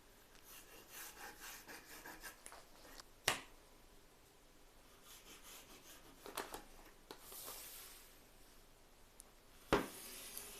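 A marker draws a straight line along marks on a fabric pattern for a baby nest bed. It makes faint, steady scratchy rubbing strokes, close up, with a couple of sharp taps and no talking.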